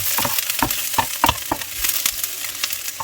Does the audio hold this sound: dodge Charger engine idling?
no